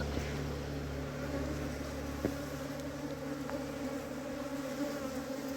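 Honeybees buzzing steadily as they are moved from soil into a hive box, a continuous close drone with a few faint knocks and no talk.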